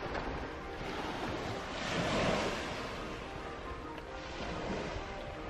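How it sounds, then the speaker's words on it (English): Sea waves wash onto the shore beside a pier below red cliffs in South West England, a continuous soft roar that swells and recedes, with some wind buffeting and no talk. "the sound of the sea"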